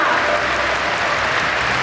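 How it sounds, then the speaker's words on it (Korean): Applause from the crowd at a Korean political party's national members' convention, a dense, steady roar of many hands clapping, with voices mixed in underneath. "박수 부탁드립니다"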